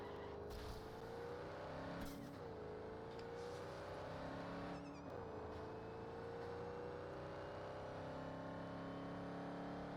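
A car driven through the city in Cyberpunk 2077 hums with a steady engine tone that rises and dips as it accelerates, with brief bumps and scrapes along the way, loud and continuous throughout.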